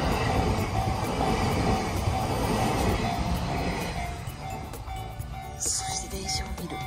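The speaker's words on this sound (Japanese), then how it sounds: "何この電車。" A long train rolls past close by, a loud broad rumble of wheels on rails that slowly eases as the cars go by, with people talking over it.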